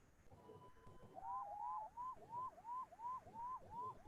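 An ambulance from Lok Nayak Hospital arrives at a cardiac emergency. Its siren wails in steady, repeating rising-and-falling sweeps, moderately distant and heard on its own with no talking.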